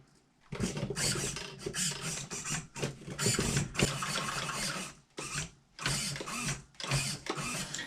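The steering servo of a Clodbuster RC truck whirs and grinds in several short bursts as it turns the wheels back and forth, loud and close with brief gaps between moves, no talk.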